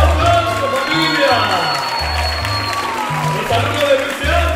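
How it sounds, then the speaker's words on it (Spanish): Audience applause and cheering at a salsa school showcase, a dense crowd roar with clapping and whoops, mixed with loud music and an announcer's voice throughout. "¡Ese aplauso, familia!"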